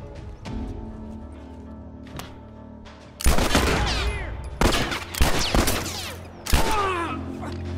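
Bursts of rapid gunfire from enemies in The Last of Us, loud and close, erupting in several clusters of cracking automatic fire with brief lulls between volleys.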